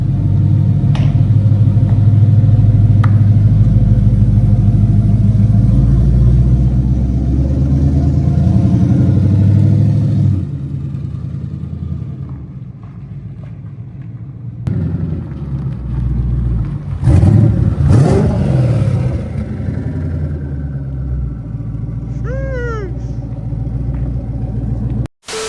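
A car engine idles with a heavy, loud rumble indoors in a smoky space, then drops to a quieter running note before several sharp revs, with no talking.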